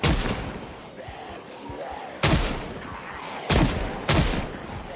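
Revolvers and pistols firing in a zombie survival game, four sharp loud shots at irregular spacing, two close together near the end, with quieter thuds and shuffling between them.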